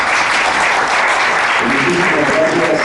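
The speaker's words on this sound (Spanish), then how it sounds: "Les pido un fuerte aplauso" Loud, dense applause from a crowd at a televised political event, steady clapping throughout with a faint murmur beneath.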